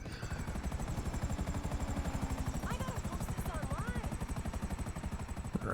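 A helicopter in GTA Online drones with a fast, steady rotor chop, loud and close throughout, while faint chirping game sounds flicker in the background.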